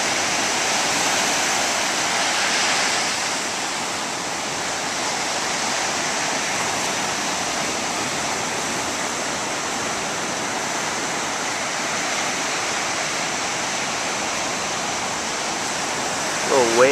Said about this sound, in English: Little wave out here this morning in Rodanthe.